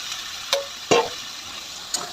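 Crab sautéed in a pan with spices: a faint background sizzle broken by three short scraping stirs, the middle one loudest.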